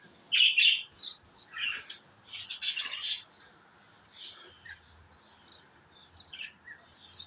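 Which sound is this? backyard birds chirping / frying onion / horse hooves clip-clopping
backyard birds chirping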